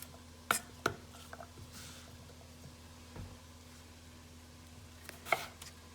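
A knife cuts potatoes into small cubes on a board, a few sharp chopping knocks spaced apart with quiet pauses between them.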